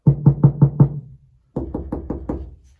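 Knuckles rapping on a sound-deadened truck cab panel, two quick bursts of five dull, solid knocks separated by a brief pause, close and alone.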